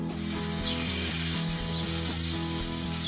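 Smash burger patties browning on a hot kamado grill give a loud, close, continuous sizzle with a bright hiss and crackle that stays steady throughout, no talking.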